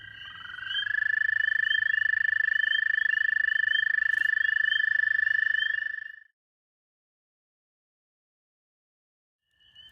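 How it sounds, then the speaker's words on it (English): A single spring peeper frog gives one long, loud, close whistling call lasting several seconds, then falls silent, with a faint start of another call at the very end. "So we heard a peeper frog over here"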